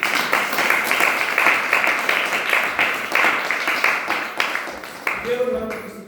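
A church congregation at a Christian ministry gathering in Ballari district claps in thick, continuous applause for several seconds, then the clapping thins out and tapers off near the end.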